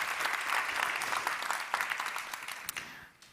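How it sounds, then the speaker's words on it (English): An audience at the opening remarks of the Masters of Digital 2023 conference applauds with dense, steady clapping that swells briefly and then fades out toward the end. "I think we should start out by applauding everybody who's with us online"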